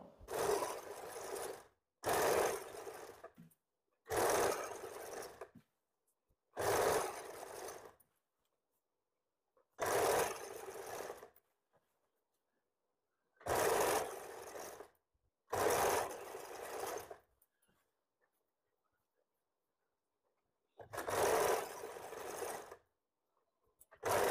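An electric sewing machine stitching seams on an umbrella frock runs in about nine separate whirring bursts, each a second or two long, with brief silent pauses between them, close and alone.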